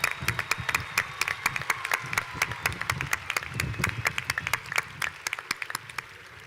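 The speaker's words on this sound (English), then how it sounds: "just a round of applause for all of the master's degree students" Commencement audience giving a round of applause for master's degree students, a crowd of hands clapping with sharp, distinct claps standing out over a steady patter, moderately loud and continuing for several seconds.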